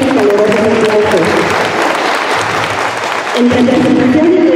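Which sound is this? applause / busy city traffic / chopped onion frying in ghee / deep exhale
applause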